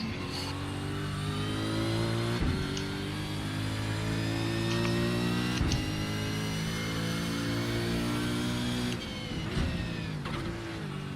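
Race car engine in a sim racing game at Bathurst drones steadily with a sustained, loud hum and a few brief clicks, alone without speech.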